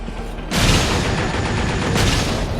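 Dense, sustained gunfire bursts in the Binary Domain video game as shots are fired at a power cable, loud continuous rattling that swells at about half a second and again near two seconds, with no talking.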